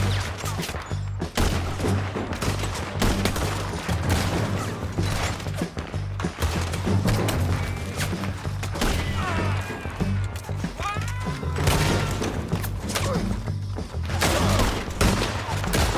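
Red Dead Redemption 2 shootout: dense, continuous volleys of gunfire with thuds and game sounds, loud and unbroken for the whole stretch.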